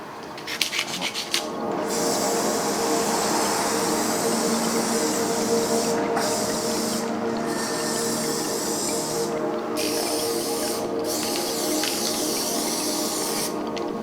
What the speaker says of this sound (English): And now next I would even spray paint in there a little.